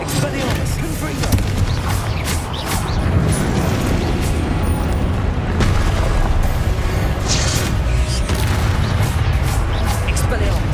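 Confringo explosion spells in Hogwarts Legacy, a dense, continuous barrage of loud booms and crashes with blasts firing in rapid succession, heavy low rumble throughout, mixed with game sounds and a voice shouting spell names.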